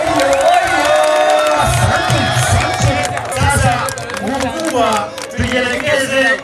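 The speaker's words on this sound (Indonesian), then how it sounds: "pia makofi mengi" Crowd cheering and clapping at a football cup final in Handeni, a loud continuous roar of voices and whoops with an announcer speaking over the noise.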